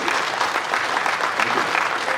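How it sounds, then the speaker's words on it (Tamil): Audience applause fills the hall at a film audio and trailer launch event, a steady dense clapping throughout at even loudness, with no voices standing out. "இந்த அரங்கம் நல்லா அதிர மாதிரி நல்ல படத்தை கரகோஷம் கொடுங்க அவருக்கு."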